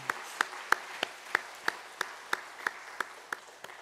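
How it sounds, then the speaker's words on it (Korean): A church congregation applauding during a Sunday service, sounding as slow, evenly spaced claps about three per second, fairly faint and thin rather than a dense roar, continuing steadily for a few seconds. "박수 한번 부탁합니다."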